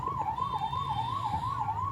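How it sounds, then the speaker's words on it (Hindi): An ambulance caught in a traffic jam at Sungal Mod, Akhnoor, sounds its siren in a steady wailing rise and fall, loud and continuous over a low rumble of idling traffic. "एक एम्बुलेंस आप देख रहे हैं"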